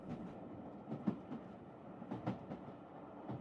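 A train rolls past at a moderate distance, its wheels giving soft rhythmic clacks over a steady rumble, the sound gently fading as a calm scene returns.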